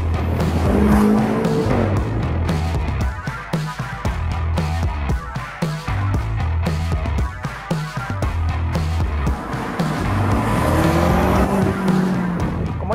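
A BMW M5 F90 starts up and accelerates hard, its engine roaring loudly and rising through repeated revs and gear changes, close and continuous with no talk.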